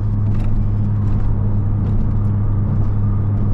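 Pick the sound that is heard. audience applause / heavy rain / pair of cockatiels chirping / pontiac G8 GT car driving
pontiac G8 GT car driving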